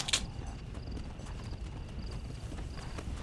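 Horse hooves clip-clop in the Red Dead Redemption Undead Nightmare video game, a steady, moderately loud patter of steps with a sharp hit near the start.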